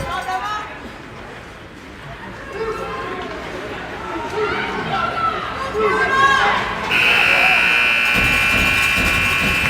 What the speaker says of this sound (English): you'll hear the buzzer go on the first period of play